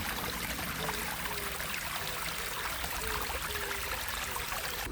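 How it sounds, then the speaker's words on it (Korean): Steady, soft rushing of water flowing in a small valley stream beside a forest path near Gaesimsa temple in Seosan, South Korea, continuous and even throughout with no voices. "낮은 계곡 물소리."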